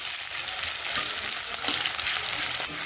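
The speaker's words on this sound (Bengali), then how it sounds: "চলো পেঁয়াজটা একটু ভেজে নিই।" Onions frying in a pan for a white chicken dish, giving a steady, close, dense sizzle that runs unbroken throughout with faint stirring and no voices.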